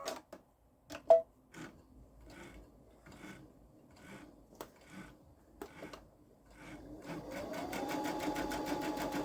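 Handling taps and soft clicks come from a Babylock Solaris 3 sewing machine with a digital dual feed foot, set up for quilting a pillow front. After about seven seconds the motor starts and runs in a steady, low whirr.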